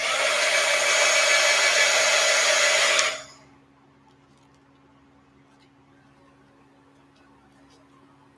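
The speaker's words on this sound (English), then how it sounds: "let's do a little bit more drying here. Holding the heat gun in my lap." A heat gun drying paint blows a loud, steady hot-air roar for about three seconds, then cuts off abruptly into near silence.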